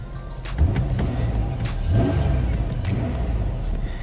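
A car's 3.5 engine runs steadily with a low rumble, revving up briefly twice amid some clattering.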